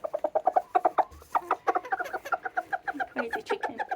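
Serama chickens cluck in a quick, steady run of short, close calls that continue without pause, with no speech over them.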